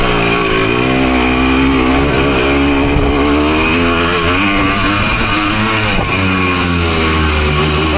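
A Husqvarna PE250 dirt bike rides trails in low gears, its engine droning loud and close throughout with steady revving pitch changes and no talk.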